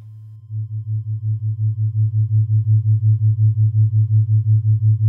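A modular synthesizer sine wave passes through a VCA and pulses in a steady, rapid tremolo, swelling and fading evenly. The pure low tone stands alone and grows slightly louder at the start.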